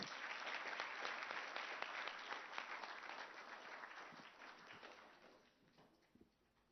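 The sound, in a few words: audience applause welcoming Dr. Richard Sezibera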